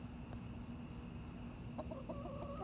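Pet egg-laying hens clucking softly and sporadically near a steady background hum, with a brief run of clucks toward the end; no one speaks.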